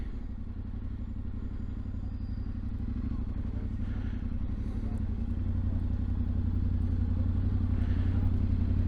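A Yamaha Tenere 700 World Raid motorcycle idles and rumbles steadily up close as it is maneuvered into a parking spot, its low engine drone growing slightly louder toward the end, with a faint clatter or two.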